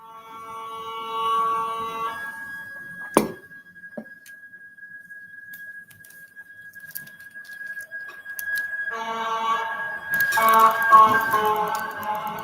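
An ambulance siren holds a steady high electronic tone for several seconds between bursts of busy noise, with a sharp bang partway through; the siren's pitch stays flat rather than wailing.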